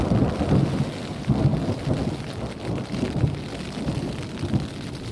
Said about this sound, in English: Lightning and thunder, waiting at the storm.